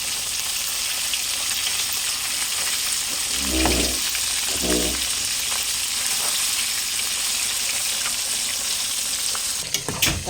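Malunggay (moringa) pods frying in a pan, a steady bright sizzle that fills the whole stretch. Two brief scraping stirs come a moment apart, and a clatter sounds near the end.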